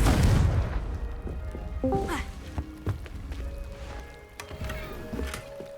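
A Confringo spell in Hogwarts Legacy erupts with a loud opening boom that decays into scattered thuds, chimes and footsteps within the game's ambience.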